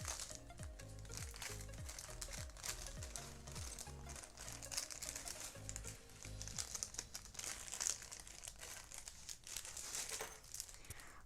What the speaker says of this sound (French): je vais déballer devant vous